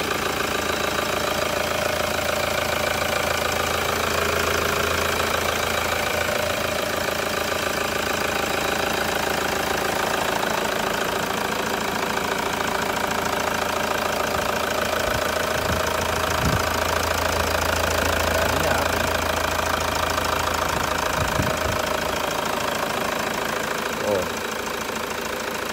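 A Toyota Hilux SRV 3.0 diesel, a 2011 manual 4x2 pickup, idles with a steady, loud, knocking diesel clatter that stays even for the whole stretch, with a few faint incidental clicks near the end.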